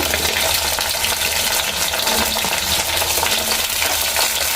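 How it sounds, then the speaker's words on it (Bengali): Drumstick vegetable (sajne data) pieces and potatoes fry in hot oil in a pan, a steady dense sizzle with light stirring scrapes throughout, close and continuous with no voices. "তাতে ছেড়ে দিচ্ছি সজনে ডাঁটা, আলু।"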